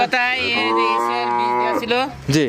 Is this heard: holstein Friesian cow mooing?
yes